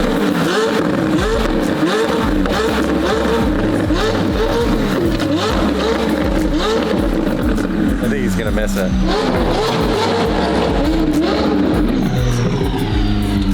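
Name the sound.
race car engine revving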